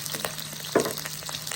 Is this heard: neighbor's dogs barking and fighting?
no